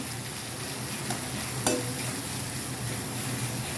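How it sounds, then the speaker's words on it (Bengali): Chopped onion and green chili frying in a pan, a steady close sizzle throughout with one sharp clink near the middle; no voices. "ভাজা আমি করছি"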